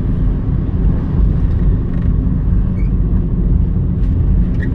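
A Daihatsu Sigra 1.0 manual car's engine pulls in fourth gear at about 1000 rpm, a loud, steady low drone heard from inside the cabin with a constant rumble and no talk.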